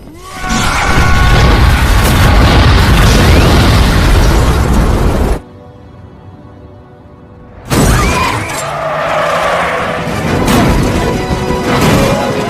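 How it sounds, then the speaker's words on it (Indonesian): A loud, sustained explosive blast with shattering debris, cutting off abruptly, followed after a quiet gap by another burst of crashing, rumbling destruction. "meledakkan Gabriel bersama dirinya"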